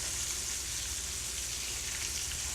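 Oysters frying in hot cast iron skillets make a dense, steady sizzle that holds at an even level throughout, with no voices.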